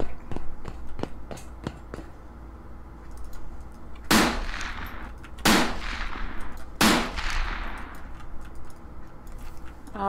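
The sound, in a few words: gunfire from video game Borderlands 2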